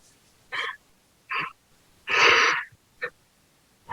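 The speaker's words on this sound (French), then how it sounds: "baillez, laissez aller." Yawns and loud breathy exhalations during a yoga face-massage session: several short airy breaths, then one long open yawn in the middle, with another quick breath near the end, close and without talk.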